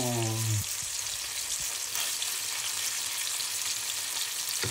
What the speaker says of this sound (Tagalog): Yan, piniprito na natin ng napaka-slight fire.